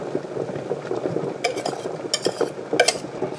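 Parmesan and beaten egg whites are gently folded into a broccoli mixture in a bowl, giving soft, wet squelching stirs in a slow rhythm with a few brief scraping bursts, close and fairly loud.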